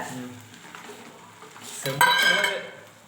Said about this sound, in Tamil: இப்போ வந்து நம்ம இந்த காலிஃப்ளவரை அதில் போட்டுக்கலாம்